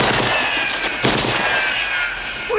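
Gunfire crackles through a tense 1985 film scene, a dense, continuous burst of rapid shots and fusillade filling the whole moment, loud and close with faint cries mixed beneath.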